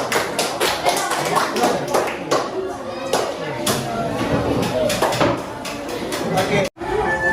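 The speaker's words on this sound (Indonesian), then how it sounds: "tepuk tangan untuk kelompok 3." A class of students in an Indonesian classroom claps together for a presenting group, making a steady run of sharp, fairly loud claps in a rhythmic pattern, with voices talking over it and a brief pause near the end.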